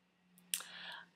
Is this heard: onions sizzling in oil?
no